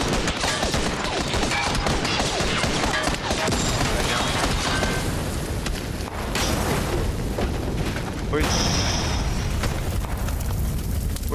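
Dense, continuous gunfire and booming blasts in the PUBG battle-royale game, loud and sustained throughout with no let-up, bursts overlapping into a constant roar.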